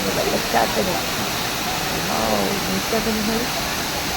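A waterfall roars as a steady, broadband rush of water, close and constant throughout, with a person speaking over the noise.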